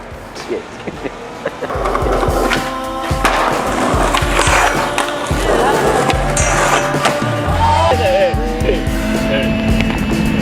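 Street skateboarding with loud wheel rolls, board clacks and hard thwacks as a trick is attempted and landed, voices talking and shouting over the rattle.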